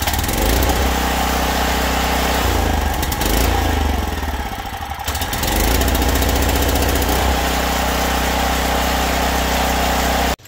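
A generator mounted on a semi truck runs loudly and close, a steady mid-pitched engine hum with a brief dip in the middle before settling back to a constant drone, then cutting off abruptly at the end.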